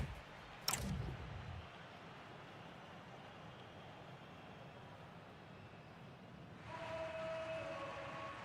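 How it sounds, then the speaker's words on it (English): A referee's whistle in the eFootball video game blows sharply once near the start over steady crowd ambience, and a longer tonal whistle sounds toward the end as play restarts. "So the referee's whistle as the action is restarted"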